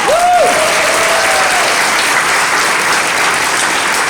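A candidates forum crowd in Virginia breaks into loud, sustained applause filling the room, a short whistle-like squeal riding over the first second or so.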